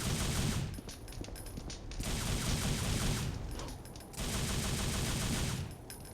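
Gunfire rattles out in the video game Devil May Cry, in three long, loud rapid-fire bursts separated by brief pauses, with no talking over them.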